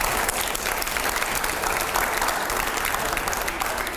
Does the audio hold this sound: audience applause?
yes